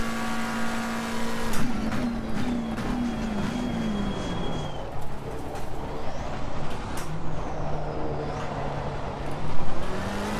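A McLaren 720S Evo race car laps Spa in a video game, its engine climbing through the revs with gear changes, downshifts and a louder surge near the end, all without talk.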